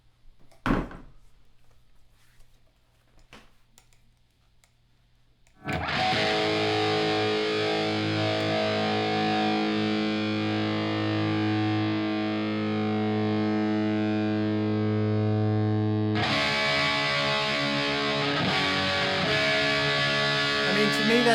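Electric guitar played through an Echoplex into a Marshall amp bursts in with loud, distorted sustained chords after a few soft handling knocks, then a second heavy strum rings on with echo.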